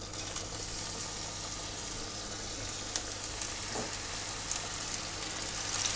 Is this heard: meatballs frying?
yes